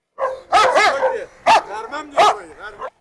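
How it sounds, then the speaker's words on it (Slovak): A large dog on a leash barks in loud, close bursts, several sharp barks spread across a few seconds with brief gaps between them. "Teraz je na vodítku, však šteka."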